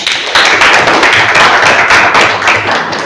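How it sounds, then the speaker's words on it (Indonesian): Classroom applause for a student group after a presentation on cultural diversity, a dense, steady patter of many hands clapping close by and continuing through the whole stretch with no talk. "tepuk tangan untuk kelompok Rasha"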